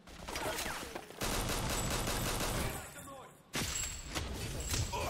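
Gunfire in 50 Cent: Blood on the Sand, dense rapid bursts of shots filling most of the clip with short gaps between volleys, loud and continuous, with voices mixed in.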